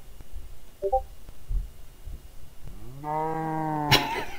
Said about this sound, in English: life of a cow in Minecraft.